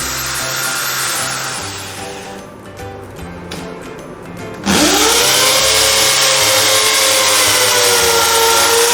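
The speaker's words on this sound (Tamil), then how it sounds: "ஸோ ட்ரில்லிங் நடக்குது" A loud power drill boring into a wall whines continuously, dipping briefly, then surges back up to full speed with a rising motor pitch as it bores in.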